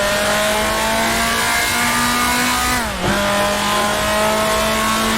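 A 1966 Formula 2 race car at Rouen in Grand Prix Legends screams at high revs, holding a loud steady whine before a sharp dip and quick recovery as it shifts, then pulls on at full throttle.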